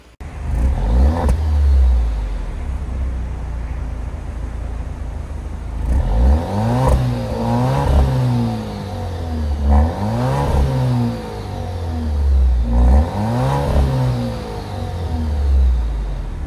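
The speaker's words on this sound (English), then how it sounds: "let's take a listen to what this inline 4-cylinder has to say when it comes to the exhaust note" The inline four-cylinder engine of a 2024 Alfa Romeo Stelvio Competizione revs repeatedly, exhaust note rising and falling in several loud surges over a steady idle, close by with no talking.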